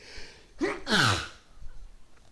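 A single sharp sneeze bursts out close by, with a quick intake of breath just before it, then quiet room noise.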